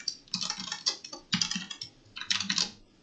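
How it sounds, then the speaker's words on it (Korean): Computer keyboard typed on in quick bursts with the shift key pressed, close-up clicky keystrokes in short runs with brief pauses and no talk. "왼손 새끼손가락으로 쉬프트 키를 누른 다음에 그냥 똑같이 누르면 이렇게 변환이 돼요."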